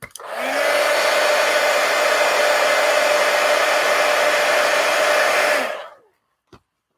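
A hair dryer runs steadily at close range for nearly six seconds while drying paint and shading on a collage art journal page, then clicks off and leaves near silence.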